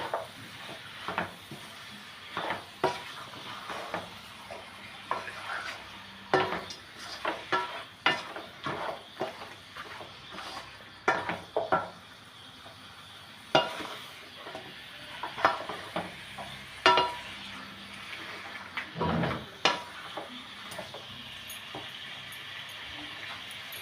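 Chicken curry sautéing in a pan, with a spoon scraping and stirring in irregular clusters of knocks over a soft constant sizzle, close and fairly quiet.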